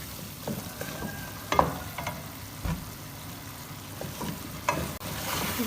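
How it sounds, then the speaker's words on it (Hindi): Taro root (arbi) frying in oil in a pan for an arbi baingan curry: a steady close sizzle with occasional scraping stirs, and no talking. "अरवी इसमें डालेंगे और अभी से 1 से 2 मिनट अरवी को इसके अंदर हम इसकी भुनाई करेंगे पहले"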